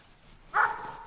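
A village dog outside a house gives one short, fairly close bark over a quiet background.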